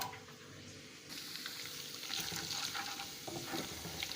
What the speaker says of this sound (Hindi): जब हमने प्याज निकाली थी तो ऑयल हमने छोड़ दिया था पैन में, उसमें मैंने डाल दिया लहसुन अदरक को।